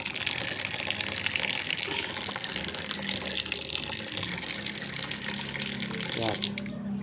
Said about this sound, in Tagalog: babad muna natin sa tubig para lumambot yung mga putik.